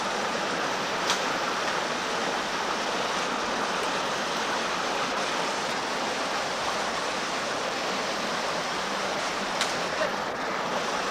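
Water rushing steadily through an old stone channel built by enslaved labourers, a continuous broad roar of flow that stays close and even throughout, with no voices over it.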